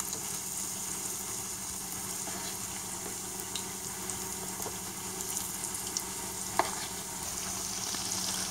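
Pakoras made from besan batter frying in hot oil make a steady, soft sizzle with occasional small pops, heard up close and alone.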